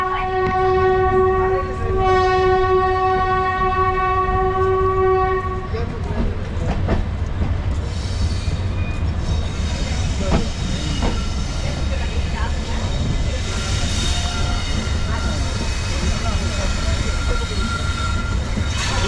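The Tirunelveli–Tambaram special fare express train sounds a long, loud horn, then runs on with a heavy, continuous rolling rumble and rattle of the wagons close by.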